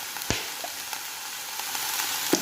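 Onions fry in oil in a pan for kallu gojju, giving a close, steady sizzle with a few faint clicks of stirring. No one talks.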